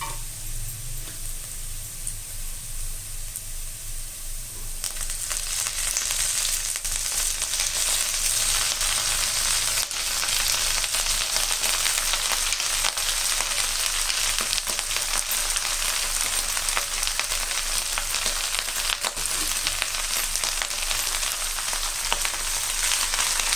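Drumstick leaves and chillies stir-fry in a pan for a murungai keerai peanut poriyal, a steady loud sizzle swelling after the first few seconds, with faint scraping of stirring and no voices.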